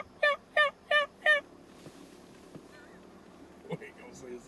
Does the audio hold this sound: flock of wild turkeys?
yes